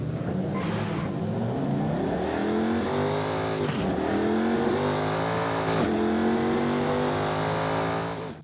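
Engine of a GTA Spano with a nearly 8-litre unit in Forza Horizon 5 revs loudly and continuously, pitch climbing through repeated rising sweeps with brief dips between gear shifts.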